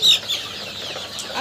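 Fayoumi and desi chickens give a short burst of clucking, one sharp call followed by softer murmuring, close by and moderately loud.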